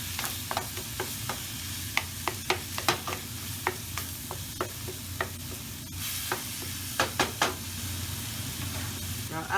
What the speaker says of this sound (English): And we want to start browning our meat.